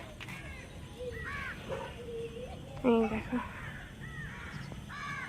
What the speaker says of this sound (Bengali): কাকটা বসে আছে, ভিজে গেছে পুরো একদম।